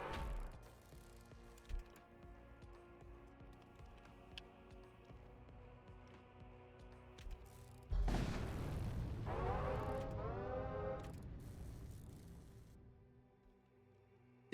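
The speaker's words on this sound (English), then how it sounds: "The explosion scatters debris in every direction." A sci-fi video game explosion in VoidWar hits with a sudden heavy boom, followed by a rumbling, crackling tail and debris-like sweeps. It fades out over several seconds.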